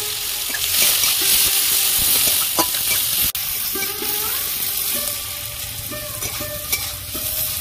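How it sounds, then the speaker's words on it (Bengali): Onions sizzling in leftover fish-frying oil, a loud steady crackle and hiss with stirring clicks and a sharp clatter partway through. "ওই তেলের মধ্যে আমি পেঁয়াজ দিয়ে দেবো"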